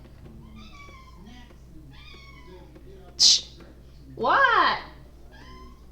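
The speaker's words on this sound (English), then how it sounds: "Cat's in the background yelling" A cat meows loudly in the background twice, a short sharp cry followed by a longer wavering yowl, over a voice talking during a Werewolf: The Apocalypse – Earthblood game session.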